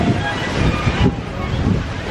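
A strong wind storm sweeps through Disney's Hollywood Studios theme park. Loud, roaring gusts buffet the microphone continuously with no break for the whole moment.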